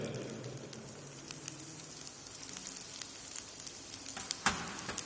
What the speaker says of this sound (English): So our oil is being heated up.